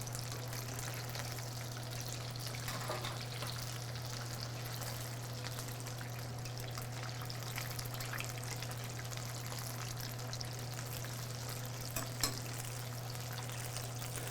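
Chicken for General Tso's chicken fries in hot oil, a steady, faint hiss and crackle throughout with a constant low hum underneath and no voices.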